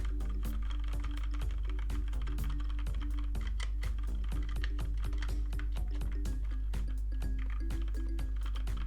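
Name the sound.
typing on mechanical keyboard with TTC brown switches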